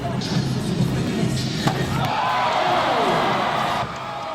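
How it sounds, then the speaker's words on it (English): A crowd cheers steadily in a gym at a college basketball dunk contest, with a single thump of the jam partway through and noisy rising crowd roar after it. "Lacey had a chance to redeem himself with this crowd-pleasing jam"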